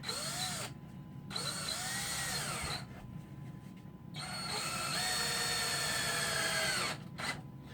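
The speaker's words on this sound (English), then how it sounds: "So we'll get those screwed in where they go, 2 screws each." A power drill drives screws into a wooden animal cage, whirring in three sustained bursts with short pauses between them, the motor pitch rising and falling as each screw seats, close and steady.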